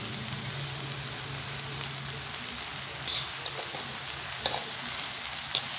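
Onion fries in a pan for stir-fried noodles with egg. A soft, steady sizzle runs throughout at low volume, with a few faint clicks of stirring and no talk.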